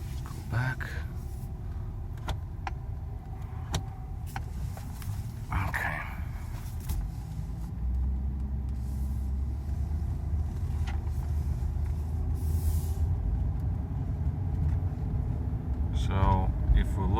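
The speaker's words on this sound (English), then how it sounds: "let's just drive down the street real quick and see operation of the unit." A Mercedes SL500 with a repaired electronic throttle drives down a street, its engine and road noise a steady low drone that swells midway, with a person talking over it.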